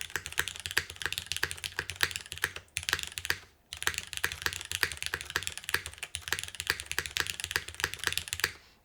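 Steady, fairly quiet typing on a KBDFans Tofu TKL mechanical keyboard in a top-mount setup: dense, even key clacks with a solid sound and a short pause partway through.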